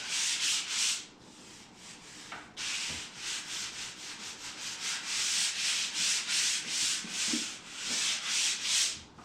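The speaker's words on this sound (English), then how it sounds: "Just lightly sanding" 220-grit sandpaper rubs lightly and steadily back and forth over a wooden door in quick, even strokes, close by, with one short pause near the start.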